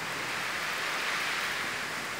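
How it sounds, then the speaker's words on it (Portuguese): Steady rain falling on a country farm in Ceará, Brazil, heard from a small balcony as a dense, even hiss with no breaks, fairly loud and close, with no voices. "essa chuva neste sábado, gente."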